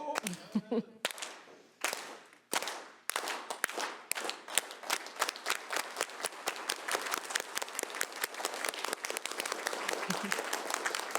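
Meeting attendees finish with a Filipino farm worker clap: a few scattered claps that build into a long, quickening run of loud unison hand claps filling a room, with no talking over it.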